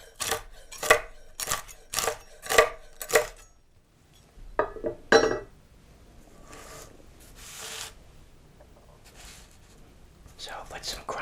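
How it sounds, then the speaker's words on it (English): Crumbly, crispy bacon is dropped onto a baked potato with butter and pepper in a series of close, crisp rustling bursts, followed by softer scraping and quiet rubbing, with whispering throughout. "So I'll put some crumbly bacon on top of that."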